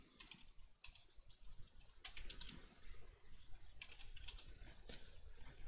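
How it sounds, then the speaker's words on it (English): Quick bursts of keyboard typing, soft clattering key clicks in uneven clusters with short gaps between, fairly close and quiet. "Oh my life, my typing's gone awful."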